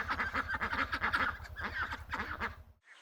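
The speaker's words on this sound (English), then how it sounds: "A duck on the water." Ducks on the water quack in a rapid, steady run of loud, close calls that continue for nearly three seconds before stopping abruptly.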